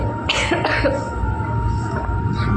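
Two quick, harsh coughs from a person close by, with a steady low background hum throughout.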